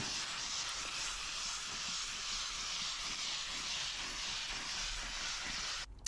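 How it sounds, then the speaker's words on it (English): A steam cleaner hisses steadily and loudly while working on the seats of a dirty work truck, a continuous broadband rush that holds for several seconds before cutting off sharply at the end. "of course I am steam cleaning the seats"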